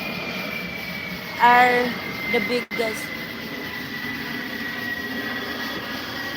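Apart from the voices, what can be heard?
loud airplane flying overhead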